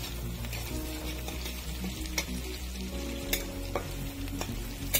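Chopped green chilies stirred and fried in a pan, a steady close sizzle broken by scraping spatula strokes and a few sharp clinks of utensil on metal, with no talking.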